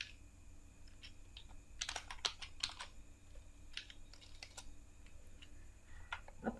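HTML table code is typed on a computer keyboard in short irregular bursts of clicking keystrokes, near and fairly quiet, with pauses between the runs and no talking.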